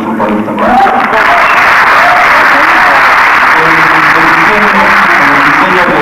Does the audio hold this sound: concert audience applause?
yes